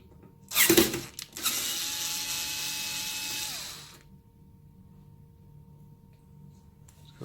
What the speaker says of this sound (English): We're going to unscrew this.